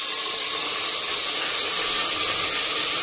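Potatoes hitting a hot pan with turmeric and spices, giving a loud, steady broadband sizzle and hiss that holds unbroken throughout, close and without talking.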